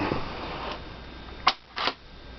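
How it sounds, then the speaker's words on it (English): The bolt of a Weatherby Vanguard or Ruger M77 MKII rifle is worked open, giving two quick, close metallic clacks in succession after some soft handling noise. "Bolt opens. Really smooth, butter smooth."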